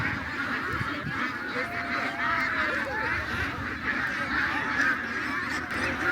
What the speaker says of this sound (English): let's go to the ducks because I'm hearing them